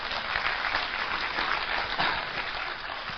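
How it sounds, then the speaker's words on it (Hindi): Hindi seminar audience clapping together on cue, a steady dense wash of many hands filling the clip, fairly loud and close, with no talk over it. "हम एक बार ताली बजा के देखते"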